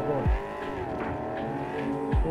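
A car driven in the video game Cyberpunk 2077 drones loudly throughout, with two sharp low crashing thuds at the start and end as it hits objects, and excited talk running over the engine.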